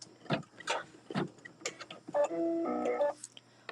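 An embroidery machine stitches an in-the-hoop pot holder, with rapid clicking needle strokes and short whirring motor tones that shift pitch as the hoop moves, close and alone.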